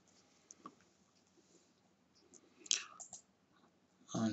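Computer mouse clicks during software setup, a few faint, sharp ticks scattered over a quiet background, close to the microphone.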